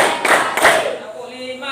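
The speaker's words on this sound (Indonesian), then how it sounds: "Tepuk 1, tepuk 2, tepuk 3, tepuk 4," A fifth-grade elementary class gives two sharp, close group claps while children chant a counting routine in unison.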